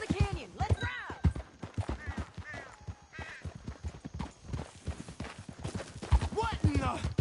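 Horses gallop in Red Dead Redemption 2, rapid clip-clop hoofbeats pounding continuously and fairly close, with voices shouting over the ride.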